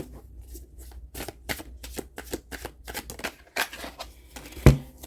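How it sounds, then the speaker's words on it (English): Tarot cards riffle and slap in a string of quick shuffles, soft papery bursts with brief pauses, ending in a sharp tap as the deck is squared. "3 shuffles and we will take the 3 cards on the top"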